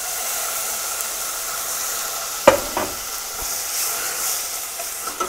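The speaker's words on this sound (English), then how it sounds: "Okay, so artichoke's frying" Artichokes and garlic fry in a pan with a steady, close, hissing sizzle, broken by a couple of sharp utensil knocks against the pan, with no voices.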